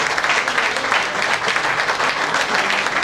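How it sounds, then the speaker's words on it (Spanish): A church congregation claps loudly and steadily through a Spanish-language service, a dense, continuous wash of applause filling the room without pause. "Den un fuerte aplauso al Señor"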